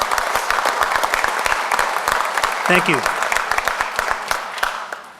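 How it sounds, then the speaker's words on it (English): Audience applause at a police academy graduation ceremony, a full room of steady clapping with sharp close claps, while someone briefly speaks over it midway. "Let's hear a nice round of applause to start the evening off."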